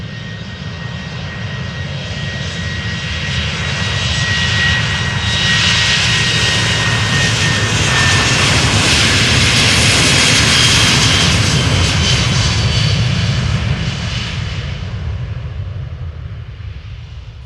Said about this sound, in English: KLM flight 1343 going to Billund, 737-700